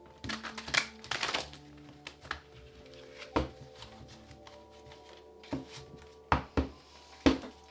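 Tarot cards being shuffled by hand in irregular bursts of riffling and soft taps, with clusters near the start and sharp isolated knocks later, close and fairly quiet, without speech.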